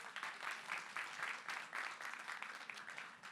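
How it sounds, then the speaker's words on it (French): Audience at the Jamel Comedy Club applauding a stand-up set, a steady wash of many hands clapping with rhythmic swells, moderately distant and continuous throughout. "Applaudissez en toute franchise."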